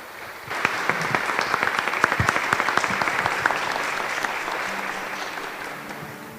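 A church congregation at Mass breaks into applause, starting abruptly and building into dense clapping with a few sharp individual claps, then thinning slightly toward the end.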